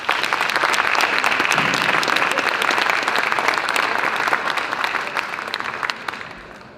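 Sustained applause from a conference audience at an opening session, a dense even wash of many hands clapping that holds steady and then thins and fades toward the end.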